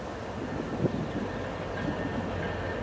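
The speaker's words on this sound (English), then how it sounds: "Here's the geometry train." A railway geometry train rolls past Fullerton in a steady, moderately loud rumble and rush, with a faint clack partway through.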